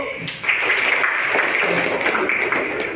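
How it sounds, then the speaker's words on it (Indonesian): A school class breaks into a dense, steady burst of applause indoors, the clapping sustained and fairly loud throughout. "Gak apa-apa, tepuk tangan dulu."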